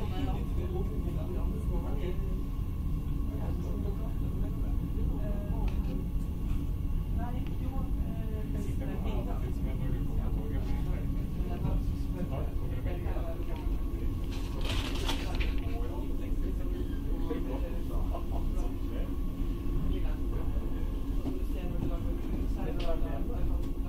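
Metro train rolling slowly toward Nydalen station in Oslo, a steady low rumble and rail noise throughout with intermittent clanks and a brief hiss, heard from inside the carriage.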